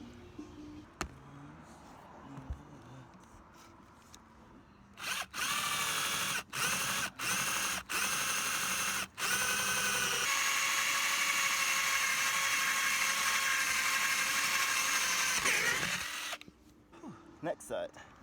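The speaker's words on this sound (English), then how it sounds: "then we're gonna raise up these vents, drill the holes, and start installing them" A power drill bores holes for an RV vent cover on a full-time RV, several short whirring bursts followed by a long sustained high drilling run, with light talk and handling noises before and after.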